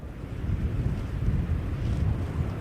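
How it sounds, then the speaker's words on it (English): Steady wind and rough lake waves make a low, continuous rushing and churning wash, moderately loud and unbroken with no voices. "It sounds like those waves are getting rough."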